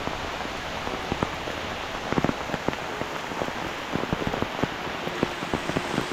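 Heavy rain falls on a vegetable garden with bitter gourd plants, a dense steady hiss broken by sharp individual drops striking nearby surfaces.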